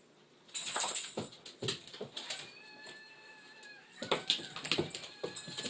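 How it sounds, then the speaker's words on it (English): Puppy playing with his toys indoors, with soft whimpers, sniffs and scattered light rustling and tapping from close by. "The puppy decided as soon as I got ready to record that he was going to play."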